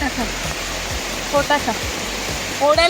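Waterfall and stream rushing in a steady broad wash of water noise in a rural spot near Wai, Satara, with faint voices and a few brief sounds rising above the constant flow.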